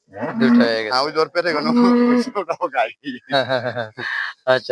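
A Friesian dairy cow at a cattle market moos in several long, loud, drawn-out calls close by, with people talking around it and other livestock noise between the calls.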